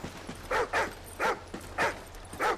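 Riley, a dog in Call of Duty: Ghosts, lets out a run of short whimpering yelps and soft barks, evenly spaced and fairly close, over a low steady hum.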